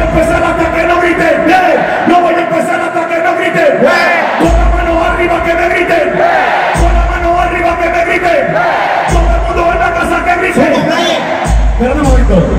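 Crowd at an old-school reggaeton concert in Puerto Rico shouting and yelling loudly and continuously over thumping bass-heavy music, the roar swelling in waves.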